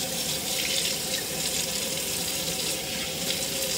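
Tap water runs steadily during a natural-hair wash with Design Essentials shampoo, a continuous, close, hissing splash that stays even throughout with no talking.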